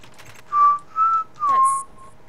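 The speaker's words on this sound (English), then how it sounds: "Please no whistling." Three rising-falling whistled notes, clear and fairly close, each about half a second long with short gaps between them, over a quiet background hum during a Minecraft parkour session.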